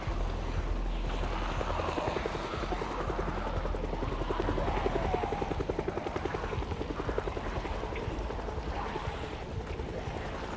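A helicopter flies overhead in the zombie survival game Project Zomboid, a continuous loud rotor thrum with rapid blade chop holding steady throughout, close and unbroken.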